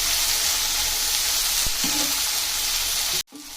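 Chopped onion and tomato sauté in a pan with a constant hissing sizzle and a light stirring knock midway; the sizzle cuts off abruptly near the end, leaving a quieter hiss.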